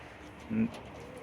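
A high-flying pigeon gives a single brief, soft coo that rises just above steady outdoor background noise.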